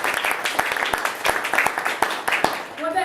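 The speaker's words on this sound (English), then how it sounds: "I'd like to give you guys all a round of applause for this" Members at a Toastmasters club meeting give a round of applause, individual claps distinct and sharp in a modest-sized room, building into a brisk patter before thinning out near the end.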